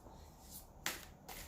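Tarot cards shuffled by hand, a faint close riffle of a few quick papery bursts.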